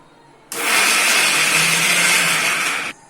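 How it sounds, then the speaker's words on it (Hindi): Electric mixer grinder whirring steadily as it grinds raw mango chutney with salt, a loud, even high-pitched whine lasting a few seconds and cutting off abruptly. "इसे मैं अच्छे से मिक्सर में ग्राइंड कर लूंगी"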